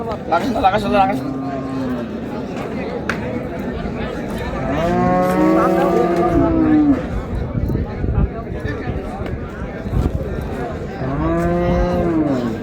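Dairy cows and calves low repeatedly at a village cattle market, loud nearby moos rising over a background of people talking and general market bustle.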